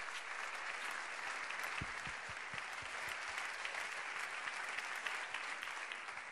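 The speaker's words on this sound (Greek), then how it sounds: "Ένα μεγάλο χειροκρότημα στην Κατερίνα." Steady, dense audience applause fills a municipal theatre for a performer named Katerina, a continuous wash of many hands clapping at even loudness throughout, with a few closer individual claps standing out briefly.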